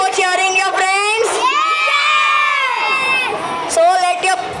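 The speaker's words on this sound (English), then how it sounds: "ready for cheering your friends?" A crowd of sixth-grade school children shouts and cheers for their friends, loud and close, with high overlapping voices rising and falling across the few seconds.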